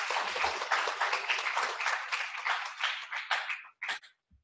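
Graduating students at an OCAD U GradEx info forum break into a round of applause, dense clapping sustained for several seconds before thinning into a few last scattered claps.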